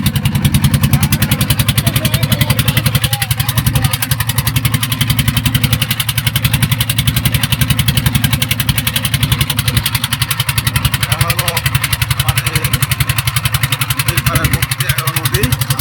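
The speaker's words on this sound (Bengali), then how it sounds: "নৌকার ইঞ্জিন" A ferry boat engine at a river crossing ghat runs loud and close with a steady, rapid mechanical chugging that holds constant for the whole stretch.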